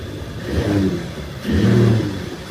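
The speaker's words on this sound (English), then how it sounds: "Let's start this AMG GT43." A Mercedes-AMG GT43 engine revs twice in quick succession, each blip swelling to a throaty roar and dropping back, close by with no talking.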